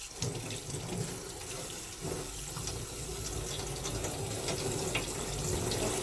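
Tap water pours steadily from a faucet as anthurium plant parts are rinsed beneath it, a close and continuous splashing rush throughout.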